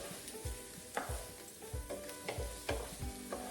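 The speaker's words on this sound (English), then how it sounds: "we'll saute that around in there" Orzo sautéing in olive oil in a pan, a quiet steady sizzle with repeated scraping stirs roughly every half second, close and alone.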